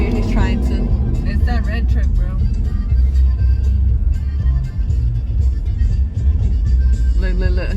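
A red truck's engine revs and rumbles nearby at a truck meet, the loud throaty roar rising and falling under excited talk from people close by.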